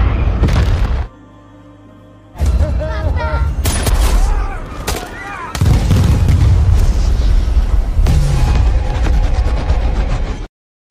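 Missile strike explosions in an action film set in a forest, a series of heavy booms and crackling blasts with bursts of gunfire, broken by a brief quiet gap, loud and close with dramatic effects.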